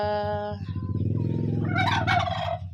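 A turkey gobbles loudly nearby, a rapid warbling burst following a short, steady call.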